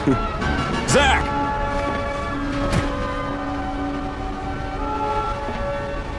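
Game train from Final Fantasy VII Crisis Core rolling along with a steady mechanical rumble, a sharp horn-like whistle near the start and another around the three-second mark, with faint talk underneath.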